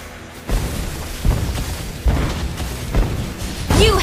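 Heavy booming explosions as a turret is destroyed in the mobile game Mobile Legends, several loud thuds and blasts arriving roughly every second over a busy battle background.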